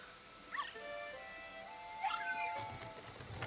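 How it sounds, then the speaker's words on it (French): Ghost dog in the video game Luigi's Mansion 3: two rising, whining yelps, about two seconds apart, over a soft game backdrop. "Oh, le chien."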